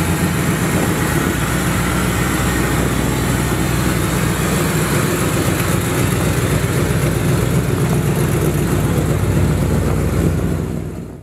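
A 1956 Chevrolet 3100 pickup truck engine runs loud and close, a steady rough rumble with a constant low throb that holds evenly before cutting off at the end.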